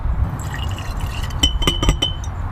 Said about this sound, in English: So you pour it into your Conical flask.